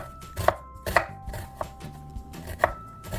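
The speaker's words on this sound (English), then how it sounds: "Next, I'm dicing up an onion" An onion being diced with a knife on a cutting board: crisp, close chopping strokes in an uneven rhythm, with a few louder knocks of the blade against the board.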